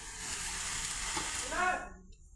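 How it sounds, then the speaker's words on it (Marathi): Soft, steady bubbling hiss of tea boiling in a pot, fairly faint, briefly swelling before cutting off. "चहा ठेवलाय उकळायला"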